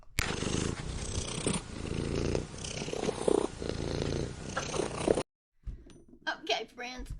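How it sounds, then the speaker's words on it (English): A house cat purring up close in a room for about five seconds, a steady rumbling loop that stops abruptly, followed by a short stretch of faint handling noise. "The cat."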